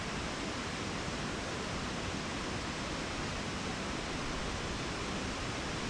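Triple Falls, a 120-foot waterfall in Dupont State Recreational Forest, North Carolina, gives a constant broadband roar of falling water, dense and even from start to finish with no voices.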